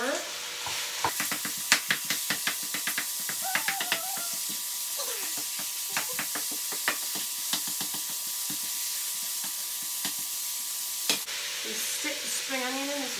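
Turkey mince sizzles in a pan as it is stirred, a steady close frying hiss broken by repeated clicks and scrapes of the spoon against the pan.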